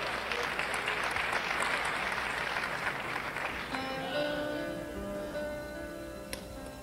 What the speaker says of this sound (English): You wouldn't have been able to hear it anyhow with that kind of applause.